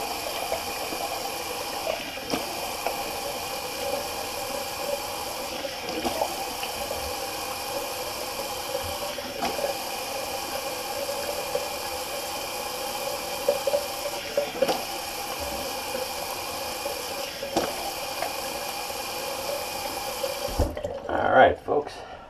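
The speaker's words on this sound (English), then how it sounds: "So cold water rinse." Cold water from a tap running steadily for a rinse after shaving, a continuous hissing stream with small splashes, ending in a few louder splashes and handling noises.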